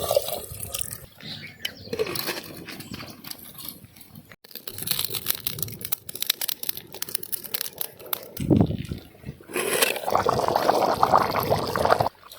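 Water is poured into a pot for village-style country chicken soup, an uneven trickle and splash that comes and goes in bursts, close and fairly soft.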